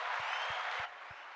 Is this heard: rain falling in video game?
no